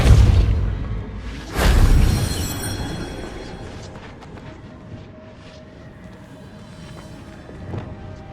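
Depulso spell cast in the Hogwarts Legacy video game: one heavy booming burst with a rushing whoosh, fading into a long, quieter rumbling tail and a faint later thump.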